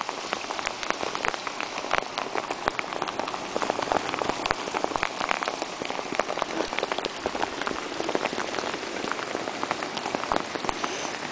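May rain falling steadily, dense patter of drops striking surfaces with scattered sharper splashes, close and continuous without pause.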